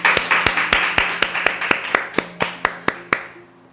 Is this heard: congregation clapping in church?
yes